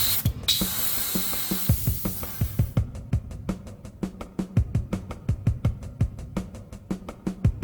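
An airbrush sprays Createx Bright Yellow 5114 transparent paint onto fishing lures in a close, steady hiss. After about three seconds it gives way to a rapid, even train of clicks or pulses that runs to the end.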